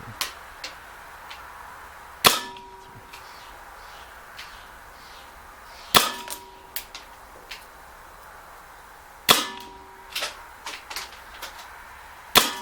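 Umarex CO2 BB pistol fired at paper targets outdoors, three sharp cracks spaced a few seconds apart, each followed by brief ringing, with lighter ticks and impacts between them including a ricocheting BB.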